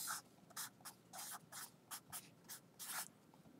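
Writing on a board during an algebra lesson: quick, scratchy strokes in about a dozen short bursts with brief pauses between them, close up and with no talking.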